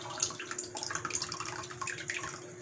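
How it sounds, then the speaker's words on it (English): A kitchen faucet runs in a small steady stream, a soft continuous splashing hiss that stays even and close throughout, with no voices over it. "I turn my water on. I just want a small stream"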